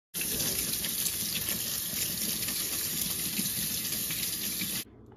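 Water from a kitchen tap runs steadily into a sink during washing, a constant close splashing stream that stops abruptly near the end.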